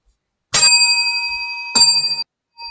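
A bell rings twice, bright and loud with a long ringing tail each time, then a third fainter ring starts at the end.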